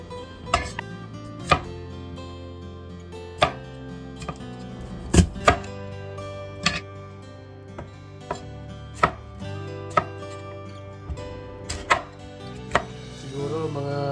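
A knife chops fish fillet into squares on a cutting board, giving sharp, distinct knocks at irregular intervals, close and clear against a quiet kitchen background.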